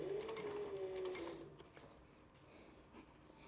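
A sewing machine runs steadily, stitching around a canteen-style purse, with a whirring motor hum that slows and stops partway through, followed by a few light clicks and taps nearby.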